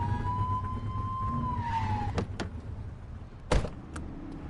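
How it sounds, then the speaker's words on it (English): A short police siren blip sounds while driving in The Precinct video game, a tone rising then falling over engine hum, followed by a couple of sharp clicks and a brief loud thud. "Get behind them and blip the siren and make them pull over."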